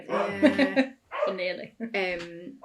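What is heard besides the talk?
dog barking at fireworks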